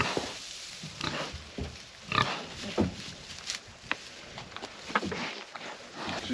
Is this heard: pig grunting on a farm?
yes